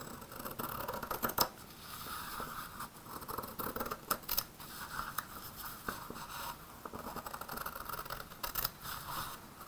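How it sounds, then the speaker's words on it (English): Scissors snip through fabric in a steady series of crisp cuts, close and fairly quiet, with light rustling between strokes. "take your scissors and we're going to cut."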